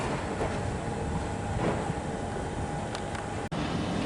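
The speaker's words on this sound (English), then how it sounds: "Here comes our Belgrave train." A Melbourne suburban train on the Belgrave line rumbles steadily as it pulls into a station, a low continuous roar with faint rail clatter and a sharp click near the end.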